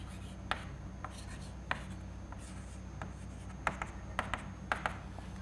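Chalk or marker writing on a board during an engineering lecture on finite elements for fluids, with scattered taps and scratchy strokes over a low room hum, close and moderately loud, no speech.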